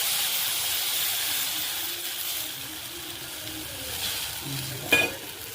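Steady sizzling of food sautéing in a pan while making wheat rava upma, with a brief clink of a utensil near the end; no voices.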